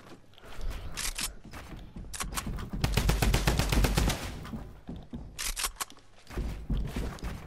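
Sustained video-game gunfire from a weapon sprayed downward, with rapid automatic bursts separated by brief pauses and a long continuous volley in the middle, loud and alone.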